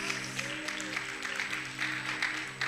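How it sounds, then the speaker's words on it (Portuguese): A church congregation applauds the Lord during a sermon, a steady bed of clapping from many hands over sustained low musical tones. "aplauda ao Senhor"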